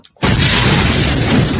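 A grenade goes off as a single loud, close blast that erupts after a brief quiet moment and stays as a sustained, broadband roar for the rest of the moment.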